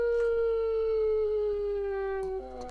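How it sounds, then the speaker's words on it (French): Hostile wolves in a Minecraft modpack give a single long, steady howl that glides slowly downward, loud and close with no talk over it, ending in a brief higher yelp-like tone. "Il y a de plus en plus des méchants toutous là."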